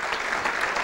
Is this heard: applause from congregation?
yes